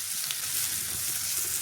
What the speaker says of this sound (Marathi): छान असा कांदा टोमॅटो आपल्याला फोडणीतच छान परतून घ्यायचा आहे